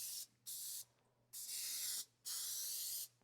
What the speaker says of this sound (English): we're going to spray around the edge a little bit